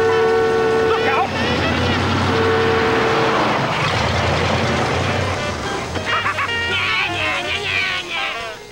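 A car passes close by while people talk, its engine noise rising and fading beneath the overlapping voices, with a horn-like tone and general road noise through the moment.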